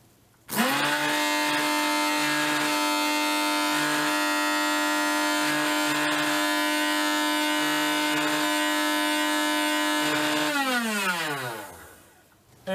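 Bandsaw motor switched on at slow speed, whining steadily at a constant pitch for about ten seconds, then spinning down as it coasts to a stop; loud and close, with no talk.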